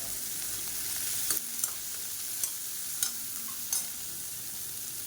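Onion, five finely chopped dried red chillies and curry leaves sauté in oil, a soft, steady sizzle broken by a few sharp spoon clicks against the pan.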